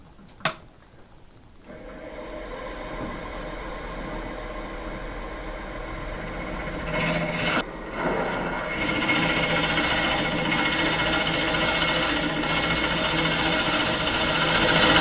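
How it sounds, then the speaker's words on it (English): Wood lathe spinning a wide flat wooden lid while a hole is drilled for its pull, a steady close mechanical whirr and hum that starts after a brief knock and grows slightly rougher toward the end. "So the next thing I want to do is drill a hole for the pull for the lid."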